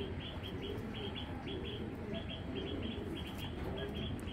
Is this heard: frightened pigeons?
yes